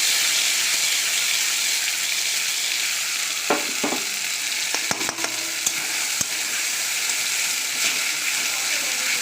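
Cauliflower leaf paste hits hot oil in a pan with a loud, steady sizzle and hiss, broken by a few short clinks and scrapes of stirring.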